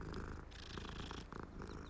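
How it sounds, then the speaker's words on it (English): A cat in Hogwarts Legacy purring close and continuously, a soft low rumbling rhythm with no talk over it. "Oh, there's another cat to pet."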